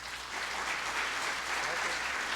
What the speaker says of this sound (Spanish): Nuevamente, por favor, un aplauso para el ingeniero